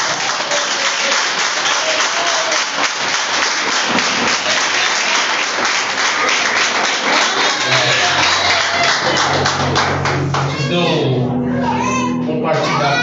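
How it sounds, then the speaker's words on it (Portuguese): Congregation clapping in a church service, steady dense applause filling the space with children's voices and chatter mixed in, music or a voice rising toward the end. "Se você tem palmas,"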